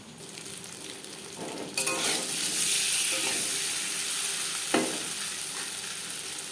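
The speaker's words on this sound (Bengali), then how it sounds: "ডিম ভাজা হয়ে গেছে" Duck eggs fry in a hot pan with a steady, close sizzle that swells sharply partway through, then crackles on with a brief spatter burst near the end, no voices over it.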